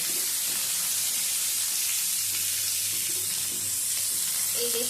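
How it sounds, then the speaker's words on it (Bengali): Cut flat beans stirred in a frying pan, giving a constant hissing sizzle with faint scraping from the spoon, steady and close. "এবারে এর মধ্যে দিয়ে দেবো কেটে নেওয়া পিস সিমটা দিয়ে আবার একটু নেড়ে ছেড়ে নেবো"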